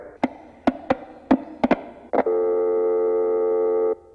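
A telephone busy signal on a radio call-in line after a caller drops: several sharp clicks, then a loud, steady buzzing tone that holds for under two seconds before cutting off.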